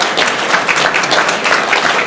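Audience applause at a live talk with Nevada Governor Joe Lombardo, a steady patter of many hands clapping moderately loud for a couple of seconds, with no talk over it.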